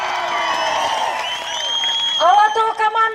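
Crowd at a Kyrgyz wedding celebration in Issyk-Kul bursting into applause and cheering on a count, dense clapping with whoops and voices mixed in, loud and close throughout.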